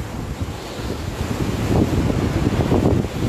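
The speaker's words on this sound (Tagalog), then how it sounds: "medyo malakas yung hangin." Strong typhoon wind of Super Typhoon Goni lashing Naga City roars in continuous buffeting gusts that batter the microphone, swelling louder midway, with no voices.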